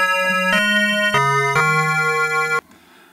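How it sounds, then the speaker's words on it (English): An Arturia MiniFreak synthesizer plays a short run of four sustained notes with its chorus effect, each rich, buzzy tone stepping in pitch and holding briefly, alone and up close, before cutting off into quiet. "And the last one adds chorus."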